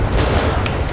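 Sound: car exploding, video game GTA 5

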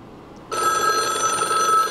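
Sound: telephone bell ringing on incoming call

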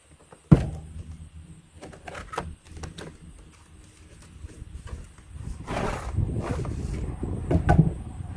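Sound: opening the box of a Harbor Freight propane torch

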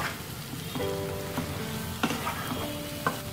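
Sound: stirring egg masala curry with ground sesame-cashew-poppy seed powder

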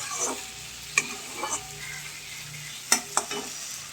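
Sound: stir-frying egg curry gravy

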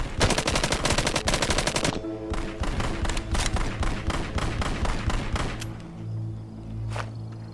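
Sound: sniper rifle gunfire in video game Arizona Sunshine

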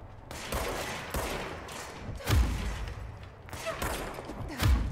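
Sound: enemy gunfire in the Control video game

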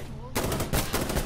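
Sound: gunfire in video game Insurgency Sandstorm

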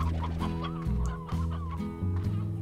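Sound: hens clucking in the video game Slime Rancher

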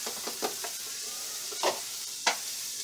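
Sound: celery frying in a pot for conch chowder

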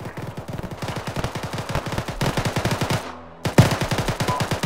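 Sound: gunfire in a video game

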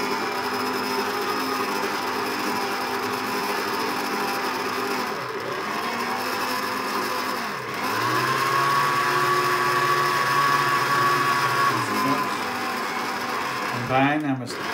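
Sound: electric mixer mixing Victoria sponge cake batter on slow speed

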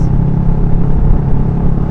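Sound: garbage truck passing

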